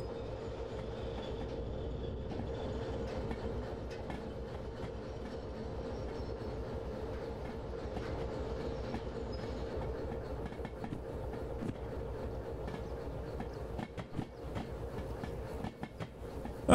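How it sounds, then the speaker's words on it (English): A train passes by in the Derail Valley railway simulation game, a steady rolling rumble with faint clickety-clack of wheels on rail joints holding even throughout, no voices. "now we just let the train go by"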